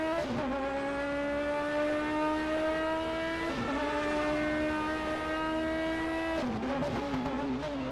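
An ISO 1978 DRM race car drives through a chicane with a loud, close engine whine that rises steadily in pitch, drops sharply at each gear shift or braking point, then climbs again.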